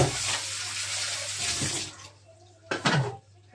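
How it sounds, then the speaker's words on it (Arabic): Tap water runs steadily for about two seconds while vegetables are rinsed in a sink, then fades, followed by a brief burst of splashing; close and fairly quiet. "اشطفها بس بشوية مية واركنها على جنب"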